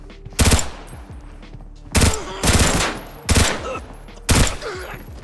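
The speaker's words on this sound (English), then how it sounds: "Let me try and kill it with hip fire." Hip-fire gunshots in the video game Arena Breakout, loud and close, in four separate short bursts spread across a few seconds with brief gaps between them and no talking.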